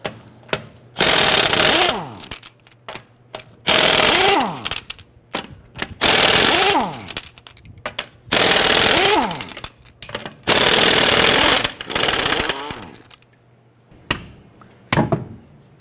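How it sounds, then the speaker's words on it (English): Impact wrench loosening lug nuts with a 22mm socket on a 2009-2015 Honda Pilot, five loud rattling bursts of about two seconds each, separated by short gaps with clinks of the socket and nuts. "Using our 22mm socket, we're going to loosen and remove our lug nuts."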